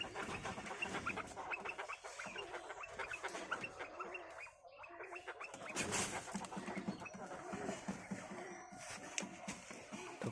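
Quail kept in a mesh enclosure being given feed, a dense, busy chorus of rapid chirps and clucks from many birds close by, continuous with small bursts of louder calling, no talking.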